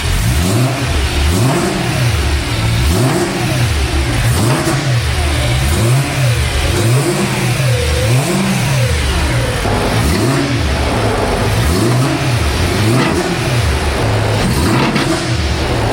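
A BMW E9x M3 engine with an Eventuri carbon plenum revs repeatedly, roughly once a second, in steady rising-and-falling bursts over a constant rumbling idle, close and loud throughout.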